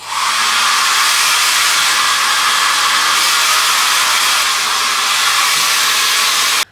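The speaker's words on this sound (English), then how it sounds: "the hotel hair dryer" A hotel hair dryer blows close by in a loud, steady rush of air that holds unbroken for several seconds and then cuts off abruptly.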